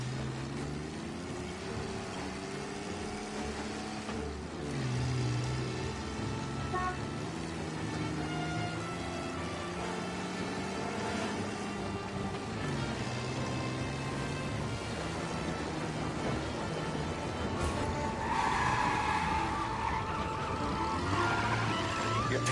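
Car engine droning steadily while driving in the game Mafia Definitive Edition, with a honk-like tone near the end, continuous and moderately loud throughout.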